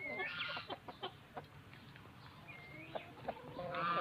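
Asil breed chickens cluck in short, scattered calls over a steady farmyard background, with a few sharper clucks standing out near and moderately loud.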